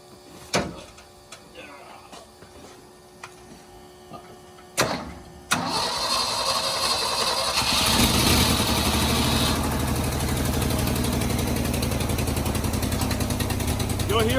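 A 45-year-old Ford F-600 dump truck cranks with a few clicks and bursts, then its engine catches and runs loud and steady with an uneven, missing beat from spark trouble; a voice talks briefly before it fires.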